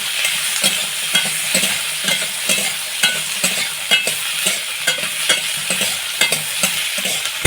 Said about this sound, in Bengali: এই মশলাটা একটু ভাজা ভাজা করে নেব।